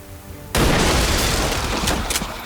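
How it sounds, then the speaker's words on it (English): Big explosion in the video game XCOM 2: after a quiet moment, a sudden loud boom erupts and rumbles on with crackling debris for about two seconds. "That was a big explosion."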